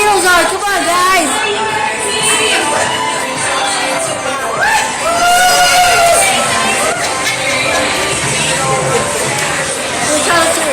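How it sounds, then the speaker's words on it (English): A big crowd of Beatles fans cheers and screams loudly for Paul McCartney at a Hollywood event. Shrill shouting and whooping hold steady throughout, with excited voices mixed into the din. "Come on, let's hear a loud cheer for Paul."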